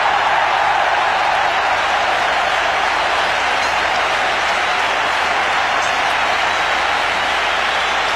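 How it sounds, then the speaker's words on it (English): Huge crowd at a 1996 Cricket World Cup semi-final between Sri Lanka and India cheering and applauding after a boundary, a dense, sustained roar filling the stadium, steady and loud from start to finish. "Listen to the crowd."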